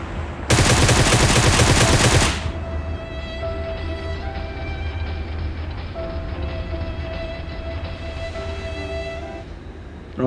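Groza assault rifle firing in PUBG, a loud two-second burst of rapid automatic shots up close, followed by a sustained humming in-game ambience with steady tonal drones.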